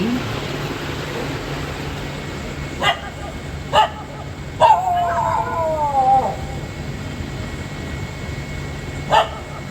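Dogs at night on an empty street give a few scattered, fairly distant barks and one drawn-out, wavering howl over a steady background hum, with long quiet gaps between the calls.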